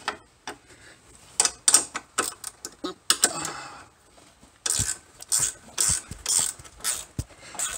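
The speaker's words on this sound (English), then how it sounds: "Gotta love your gear wrenches." A gear wrench ratchets while working on a C4 Corvette being lowered, giving bursts of quick clicking in short runs with pauses between them, close up and alone.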